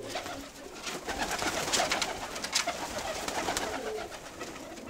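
Pigeons coo repeatedly in a steady, close chorus of soft throaty calls with light rustling from the birds, and no talk.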